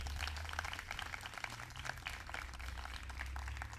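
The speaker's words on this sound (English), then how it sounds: "So let's give them a round of applause." An audience at a school induction for Grade 12 girls applauds, a steady patter of many hands clapping at moderate distance, fairly soft and even for a few seconds.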